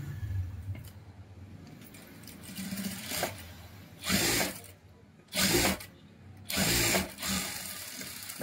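A sewing machine stitches a silk saree blouse in three short, loud runs of rapid mechanical whirring, with quieter handling noise between the runs.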